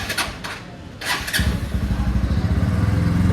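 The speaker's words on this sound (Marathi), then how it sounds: "मला ना कोल्ड स्टार्टचा आवाज ऐकवतो गाईज." A motorcycle makes a cold start in the morning: a few clicks and light thumps, then the engine catches with a loud close rumble and settles into a steady, throbbing idle.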